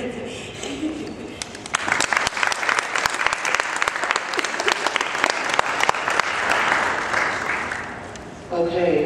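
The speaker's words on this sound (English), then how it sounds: "if we can give another round of applause and huge thank you for our guests." An audience at a middle school heroin education event gives the guest speakers a sustained round of applause that swells and then fades, with brief talk at the very end.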